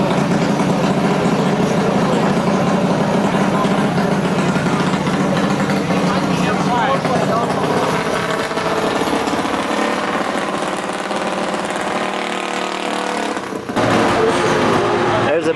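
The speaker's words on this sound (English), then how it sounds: "Like I say, it's gonna get noisy real quick. These are drag bikes, probably 25 horsepower or above." Drag minibikes with engines of 25 horsepower or more roar loud and close in a continuous, raspy blare, revving and shifting pitch throughout with no pauses.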